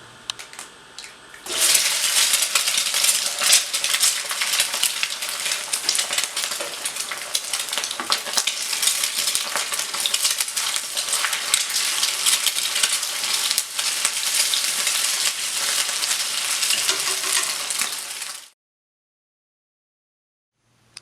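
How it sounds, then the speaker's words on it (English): An egg frying in a pan gives off a dense, steady sizzle that bursts in loudly after a quiet start and holds evenly for about sixteen seconds before cutting off abruptly, with no talking. "I love the sound when the yolk falls onto the pan"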